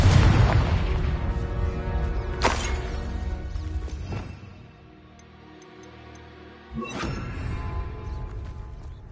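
Confringo explosive spell blasts in Hogwarts Legacy, a few sharp booming cracks with crackling tails, set over a steady bed of game ambience and music, with a quieter lull between blasts.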